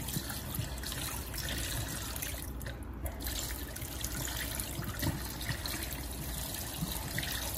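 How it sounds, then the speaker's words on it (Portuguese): Tap water runs steadily over a metal curette and brush being rinsed in a sink, a constant soft trickling splash at low volume with no talking. "deixa a água corrente no material. Toda a água corrente até enxaguar todo o material."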